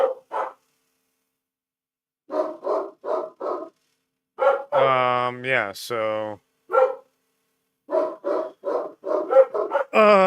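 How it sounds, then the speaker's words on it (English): Dogs bark in repeated short bursts with gaps of silence, several yips and one longer drawn-out howl or whine in the middle, fairly close, with a brief spoken voice near the start. "sorry for the dogs going crazy if you can hear them"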